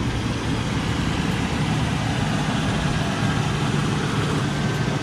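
A car engine idling steadily during a test run of a donor 4L60E automatic transmission, a constant low rumbling hum close by with no talking.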